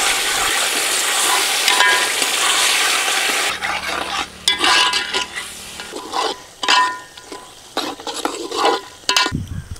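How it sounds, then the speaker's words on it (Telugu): Thick tamarind pulp for pulihora stirred in a frying pan, a loud hiss of frying at first giving way to repeated scraping, bubbling strokes of the spoon, close by. "ఇప్పుడు మనం ముందుగా తీసి పెట్టుకున్న చిక్కటి చింతపండు పులుసు వేసుకుని 5 నిమిషాలు బాగా కలుపుకోవాలన్నమాట."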